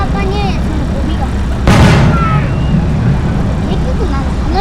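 Underwater fireworks bursting at a seaside summer festival fireworks show in Tabira, one deep booming blast landing midway over a constant crowd murmur and chatter close by.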